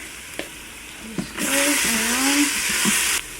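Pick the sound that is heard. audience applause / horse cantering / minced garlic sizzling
minced garlic sizzling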